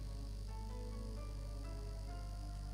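Constant low hum of a room heater buzzing throughout, steady and unbroken, with soft tonal sounds drifting over it and nobody speaking.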